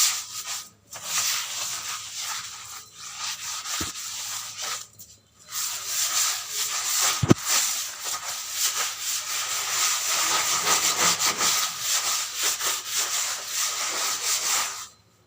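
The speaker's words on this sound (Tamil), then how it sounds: "அடுத்தது வந்து அடுப்பை தாம்ப வந்து துடைக்கணும்" A kitchen stove being wiped clean by hand, heard as continuous rubbing and scrubbing strokes with brief pauses between them and a couple of small knocks, close and fairly loud.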